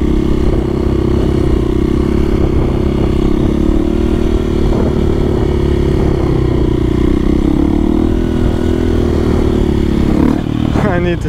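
A motorcycle rides across a small square practice area after pulling a wheelie, its engine a loud steady low drone with slight shifts in pitch, heard close throughout with a brief clatter near the end.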